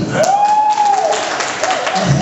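An audience at a marketing plan presentation claps steadily in a short burst of applause, loud and close, with a voice heard briefly over it.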